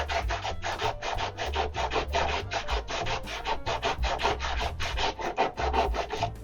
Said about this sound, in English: I'm going to clean this off a little bit with some sandpaper.